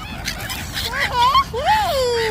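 Nasal honking calls from a large duck close by, a few rising and falling honks in quick succession, with a voice talking faintly underneath.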